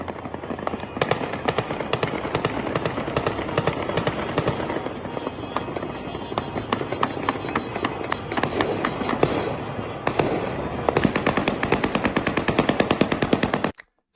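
Gunfire in Damascus, Syria: dense, rapid bursts of cracking shots overlap continuously like automatic weapons and firecrackers, some distant and some closer, for about fourteen seconds before cutting off abruptly.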